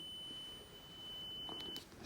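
Faint steady electronic tone sounds while probing the wiring of a car's indicator stalk switch at the left-indicator position, holding continuously before cutting off near the end.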